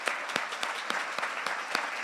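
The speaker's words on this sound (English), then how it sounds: "let's give that applause" Audience applause at a health-focused city finale event, a steady wash of many hands clapping with distinct louder claps punctuating the texture, moderately near and continuous, with no speech over it.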